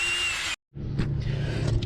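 A power drill runs steadily, tapping threads in metal for fitting aftermarket side steps to a Range Rover Sport, with a brief stop after half a second before the motor whirs again, loud and close.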